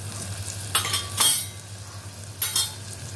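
Masala is stirred into lentil amti in a pot, giving three short scraping, clinking strokes of a spoon against metal over a low, steady background hum.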